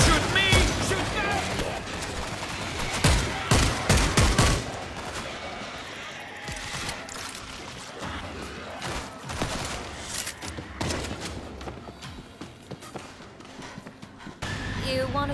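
Gunfire in the World War Z: Aftermath zombie shooter, a dense burst of shots early on giving way to scattered shots and thumps over game ambience, with voices talking.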